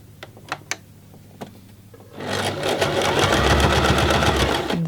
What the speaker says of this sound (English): I'm going to sew on the other strap.